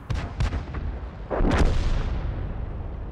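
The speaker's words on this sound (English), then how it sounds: "We'll try one of these armour-piercing rounds." A tank in the video game World of Tanks fires an armour-piercing round: a few sharp reports are followed by a heavy, booming blast that trails off into a rumbling decay.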